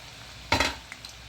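Shankarpali dough pieces made from maida slide into moderately heated oil, giving a short burst of sizzling and a stirring scrape that quickly settles into a faint hiss.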